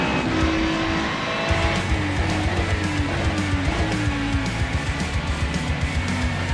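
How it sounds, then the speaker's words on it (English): Race cars in an iRacing Ferrari Challenge at Laguna Seca roar through a corner near the Andretti hairpin as one spins, with a steady engine drone, shifting engine pitch and scrubbing tire noise. "the 19 car ahead and P7 is going to spin going through the Andretti hairpin"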